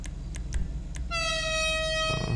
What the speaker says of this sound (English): So yeah, going to take the air horn number 3